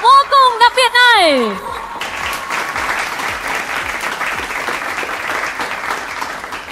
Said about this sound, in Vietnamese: Hãy cùng dành một tràng pháo tay thật lớn để chúc mừng cho khoảnh khắc vô cùng đặc biệt này.